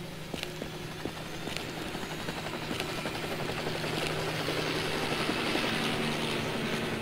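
A helicopter in the Gun Survivor video game gives a steady rotor-and-engine drone with faint rhythmic thumping, moderately loud and continuous. No voices are heard.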